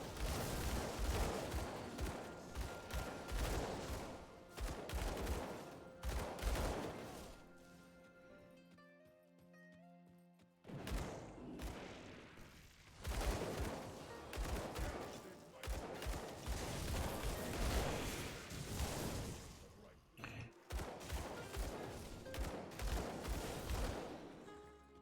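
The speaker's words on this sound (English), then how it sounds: "I think it's just his pistol shots." Rapid bursts of pistol gunfire in the action RPG Grim Dawn, loud dense volleys in long stretches broken by short pauses, with game effects and a voice talking in between.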